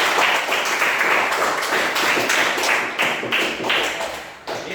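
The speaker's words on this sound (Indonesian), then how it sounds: "Sekali lagi saya minta kamu untuk tepuk tangan." Schoolchildren clap their hands together in a classroom, a dense, steady burst of many small palms slapping close by, loud and continuous for several seconds with no talking over it.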